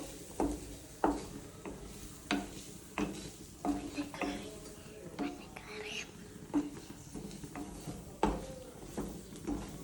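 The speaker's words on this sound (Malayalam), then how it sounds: "ഇനി നമുക്ക് നല്ലോണം മിക്സ് ചെയ്തെടുക്കണം." A spoon stirs turmeric powder through a noodle mixture in a pot, making soft intermittent scrapes and taps under quiet, whispery talk.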